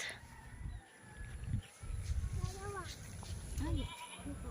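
A goat bleats a couple of times outdoors, short wavering calls over steady background noise while adults and someone talk nearby.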